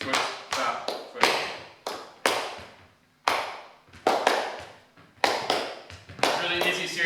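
Alternating foot taps and hand claps in a slow rhythm exercise for juggling practice, sharp close percussive hits with short gaps between them, with a voice speaking over parts of the sequence.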